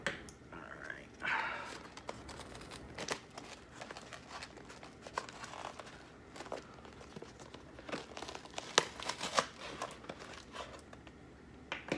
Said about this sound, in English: Slice it through the actual box here.